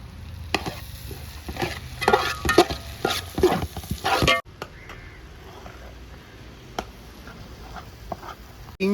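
Chilli chicken with capsicum is stirred in a frying pan, with a run of quick scraping stirs and light sizzling for several seconds, then quieter frying with occasional clinks.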